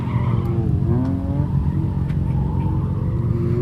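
A car drifting, its tires skidding and squealing in wavering, sliding tones over a loud, steady engine drone, close and continuous.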